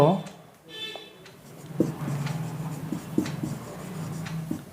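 Pen strokes scratch across paper in short bursts as a sentence is written, faint and close, with a teacher's voice talking over parts of it.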